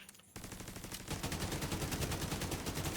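Rapid automatic gunfire in a video game erupts after a brief quiet start, then continues as a dense, evenly spaced stream of loud shots to the end, with no talk over it.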